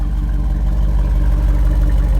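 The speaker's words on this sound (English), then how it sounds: "listen to that performance exhaust real quick before we end the video" Steady, loud low rumble of a 2021 Jeep Wrangler 392 Rubicon idling through its dual performance exhaust, a continuous deep burble with no talk.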